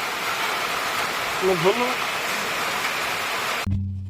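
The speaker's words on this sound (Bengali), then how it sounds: "বৃষ্টিতে ধরে ফেলেছে" Steady rain falls near Char Khidirpur by Rajshahi, a broad continuous hiss with a brief voice partway through, stopping abruptly near the end as a low hum takes over.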